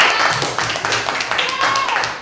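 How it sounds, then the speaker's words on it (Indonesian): A primary school class clap their hands together in quick, uneven bursts, with voices chattering alongside the applause. "Tepuk tangan untuk kita semua."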